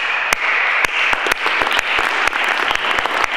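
Dense applause from an audience at a political party's spring reception, steady clapping with sharp individual claps standing out near the microphone.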